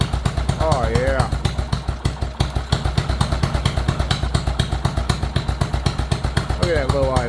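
An old John Deere engine at low idle, a steady close loping thump with an even pulsing rhythm; someone talks over it at the start and again near the end.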